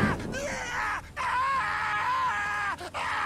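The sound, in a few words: screaming in the video game The Witcher 3: Hearts of Stone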